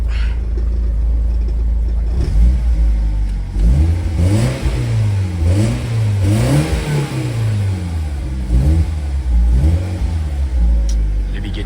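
A car under revival in a home build project, its engine warmed up after cooling system work, gets several rising and falling revs, loud and close, the pitch swooping up and back down in repeated waves.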